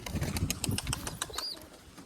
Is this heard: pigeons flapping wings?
yes